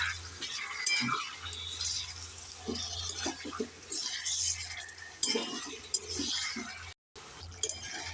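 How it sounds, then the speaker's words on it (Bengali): Chicken being stirred and fried over low heat in a pan for coriander chicken, with light intermittent spatula clinks and soft scraping against a quiet background hiss. "এবার নেড়ে চেড়ে চিকেনটাকে আমি অল্প আঁচে পাঁচ মিনিট ভেজে নেবো"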